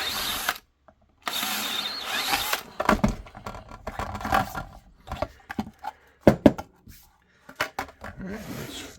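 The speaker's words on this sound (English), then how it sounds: "But those are going to be drilled." A power drill boring holes in a handmade pistol holster for a Canik TP9 Elite SC with a TLR7 Sub light, with short whirring bursts and stops, plus clattering handling knocks between them, close up with no voices.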